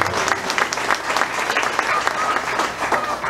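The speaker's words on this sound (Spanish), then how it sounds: "¿Cuánto damos un fuerte aplauso a Dios nuestro Padre?" A church congregation breaks into a loud, sustained round of applause, dense clapping filling the room from start to finish with a few faint voices mixed in.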